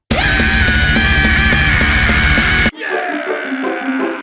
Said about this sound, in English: Step 1. Scream.